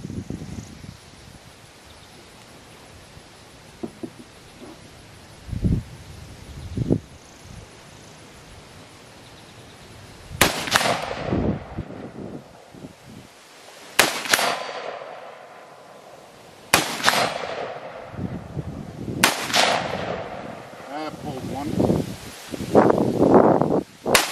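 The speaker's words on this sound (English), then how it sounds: "These are the first shots that I've personally run through this gun." A Blackwater Rifles Iron Horse, a rifle with a thumb-operated receiver, fires several loud outdoor shots several seconds apart, each echoing and then trailing off. Rustling and handling noises fill the gaps, with no speech.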